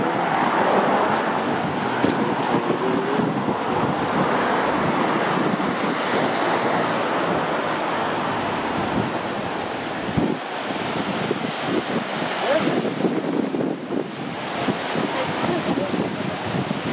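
Waves wash onto the beach at Mellieħa, Malta, in a steady broadband roar with surging swells and wind buffeting the microphone.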